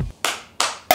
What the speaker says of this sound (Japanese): なんだ今の手拍子は